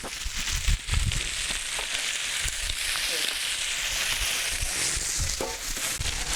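Steady loud sizzling of chicken thigh and drumstick pieces frying in a pan, with occasional crackles and light scraping over the continuous hiss.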